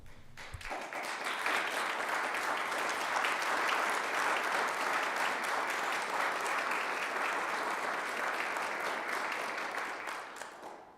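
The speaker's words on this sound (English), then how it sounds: "If you could stand for applause." A room full of people at a town council meeting claps steadily for several seconds, the applause rising quickly, holding strong, then tapering off at the end.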